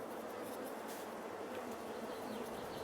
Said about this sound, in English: And then the bees, so I'm not going to get too close because they are zoomy, stingy things.